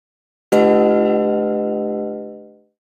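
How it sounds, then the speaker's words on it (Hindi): A single temple bell rings once at a Ram temple, struck loudly and close, its bright metallic tone ringing out and fading over about two seconds. "और घंटा बजाइए"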